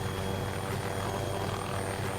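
A helicopter flies over the combat game Arma, a loud steady rotor drone filling the whole moment without break.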